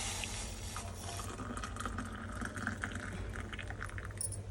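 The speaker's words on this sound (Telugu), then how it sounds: "ఇప్పుడు ఇది మరిగినాక దీన్ని తీసుకొని మనము ఫిల్టర్ చేసుకోవాలి." Boiled green tea is poured through a filter, a continuous close trickle and splash of liquid with faint clinking, steady throughout at moderate volume.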